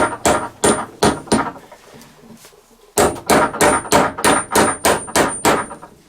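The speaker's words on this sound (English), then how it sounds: "I will little bit hammer that in directly in that area." A steel hammer drives a tool into a stuck driveshaft bolt on a Volkswagen or Audi car. Sharp, ringing metallic blows land close and loud in quick, regular bursts, with a short pause between two runs of strikes.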